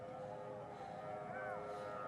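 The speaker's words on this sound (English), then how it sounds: "we can still hear the ambulances" Ambulance sirens sound faintly at Shuhada Al-Aqsa Hospital in Deir al-Balah, Gaza, a wavering wail rising and falling over steady background hum and engine noise, distant rather than close.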